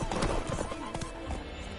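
Horse hooves trotting in The Witcher on the game's horse, a steady clip-clop rhythm of quick repeated beats over a dull rumble, close and fairly loud, with no talk.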